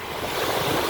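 Sea waves wash onto a beach on the Italian Riviera, a steady broadband rush of surf mixed with wind noise on the microphone, with no voices.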